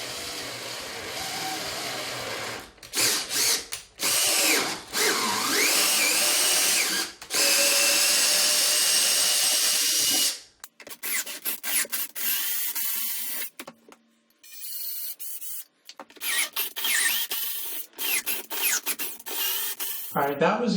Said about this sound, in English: And now I'm ready to tap the holes.